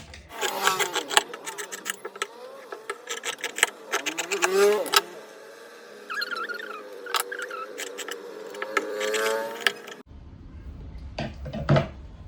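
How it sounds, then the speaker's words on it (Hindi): Close rasping, scraping strokes of fabric being cut for a baby girl's top in a 1-2 year size, coming in quick repeated runs, then a brief pause before a final few cuts. "तो अब हम कटिंग कर लेंगे"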